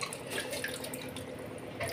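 Tap water running over hands at a sink, a close continuous splashing with uneven drips and trickles, no voices.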